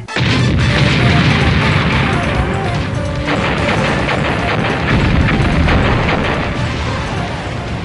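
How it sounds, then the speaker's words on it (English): Loud, dense booms and crashes of video game cannon fire and explosions in Mega Man Legends roll on continuously for several seconds, heavy and close. "All board cannons, prepare to fire!"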